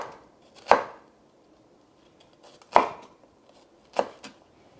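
Three spaced knife chops on a board as beef is cut into small strips for Thai basil stir fry, each chop a sharp, close thud with quiet gaps between.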